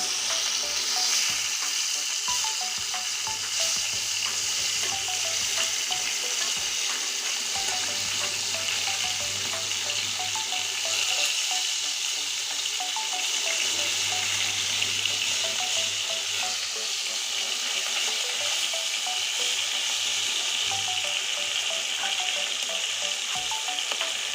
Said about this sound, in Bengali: দেখুন মাছগুলো কত সুন্দর ভাজতে শুরু করেছে এবার আমি মাছটা উল্টিয়ে দিচ্ছি